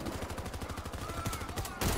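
Rapid bursts of gunfire in a video game firefight, steady repeated shots close up and loud, with a heavier blast at the very end.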